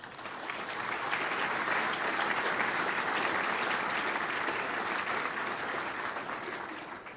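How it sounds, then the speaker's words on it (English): An audience at an event on the economic value of downtown Austin applauds steadily, swelling in and then tapering off, with dense clapping from many hands and no talking. "let's give everybody a round of applause"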